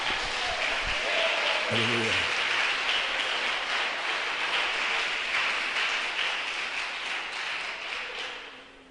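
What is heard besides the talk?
congregation applause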